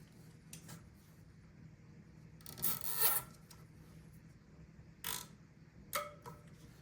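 A zip tie is cinched down around two bicycle wheel spokes. Short raspy zipping bursts come up close and fairly quiet, one longer pull followed by two quick tugs, over faint background hum.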